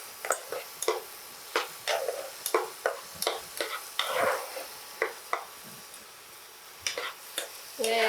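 A spoon stirs yellow date halwa being roasted with milk in a pan, sounding as repeated sharp scraping clicks in an irregular rhythm over a faint sizzle, close and clear.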